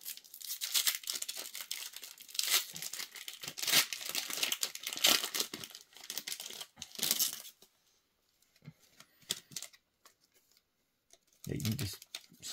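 Lorcana Floodborn card pack wrappers crinkle and tear open in bursts of loud crackling plastic, with a sparse, quieter stretch near the end and some brief talk.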